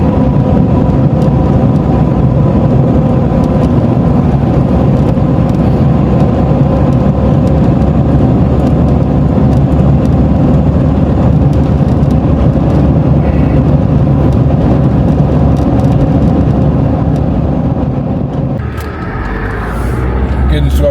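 A Ford Ranger Wildtrak pickup cruises at 70 mph on the M1 motorway, its steady loud engine and road drone filling the cab, dipping briefly near the end.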